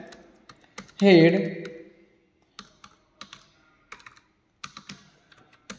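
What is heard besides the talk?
typing HTML code on a computer keyboard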